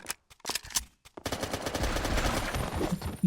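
Video game gunfire during a boss fight against a spider-like female boss fitted with weapons: after a few separate shots, a sustained rapid automatic burst rattles on loudly and continuously.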